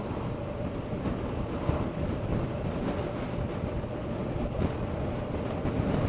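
Continuous heavy wind roar on a motorcycle rider's microphone in windy conditions, a dense, unbroken low rumble filling the whole stretch with no speech.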